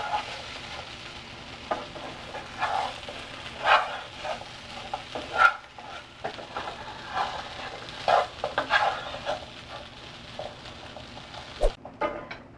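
Aloo potatoes frying in a pan, a steady sizzle with intermittent stirring scrapes and clinks, close and moderately loud, no talking.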